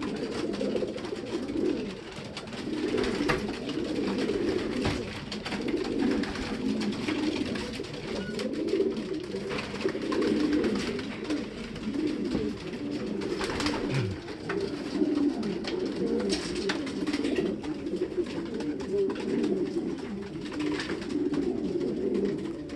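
Racing pigeons, including two-year-old birds, coo continuously on loading day in a loft, a steady layered murmur of soft throaty calls from many birds close by, with no speech.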